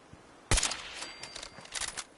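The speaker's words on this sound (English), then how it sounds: "I hear gunshots." Gunfire in the video game Fallout 4, a sudden sharp shot followed by a quick burst of further rapid cracks and rattles, moderately loud against a quiet background, with no talking.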